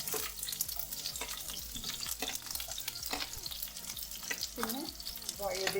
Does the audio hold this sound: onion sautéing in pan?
yes